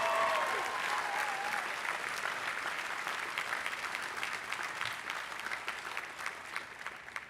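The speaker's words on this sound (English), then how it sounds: "Let's give them a big round of applause for the great work that they have done." A commencement audience applauds the graduates' families, a broad sustained roar of clapping from a large crowd that slowly thins, with a brief whistle at the start.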